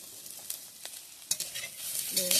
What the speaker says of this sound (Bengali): ভালো করে নেড়ে চেড়ে নেব। এবারে আমাদের সজনে ডাঁটা ভাজা হয়ে গেছে।